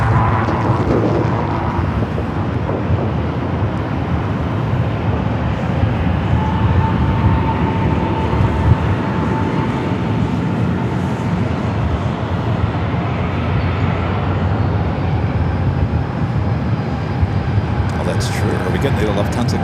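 A Lufthansa Boeing 747 on runway 24 left at Los Angeles International Airport gives off a loud, steady, broad jet roar that holds without a break.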